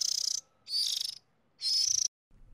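Baby birds chirp in an animated fairy-tale cartoon, three bursts of rapid, high, shrill peeping, close and clear, with short silences between them.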